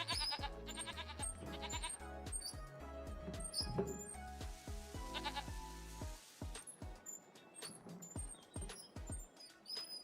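Sheep bleat repeatedly in a Farming Simulator 25 farmyard, several calls overlapping amid game ambience and chirps, fairly close and continuous with no speech over them.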